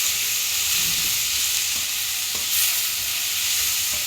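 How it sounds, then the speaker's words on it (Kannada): Two chopped medium tomatoes frying in a pan for paneer curry give off a steady, close sizzling hiss, with a few faint stirring scrapes underneath. "2 ಮೀಡಿಯಮ್ ಸೈಜ್ ಟೊಮ್ಯಾಟೊ ಮೊದಲೇ ಹೆಚ್ಚಿಟ್ಕೊಂಡಿದ್ನಲ್ಲ ಅದನ್ನು ಆ್ಯಡ್ ಮಾಡ್ತೀನಿ. ಅದು ಕೂಡ ಚೆನ್ನಾಗಿ ಬೇಯಬೇಕು"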